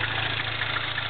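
The engine of a MINI Clubman S idles close by with a steady, low, pulsing hum and a faint rhythmic ticking rattle from a worn timing chain tensioner.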